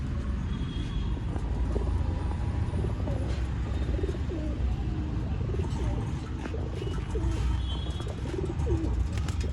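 Pigeons cooing in a steady, continuous stream, several birds close by in a rare-pigeon keeper's loft, with faint chirps and a low rumble of background noise and no talk.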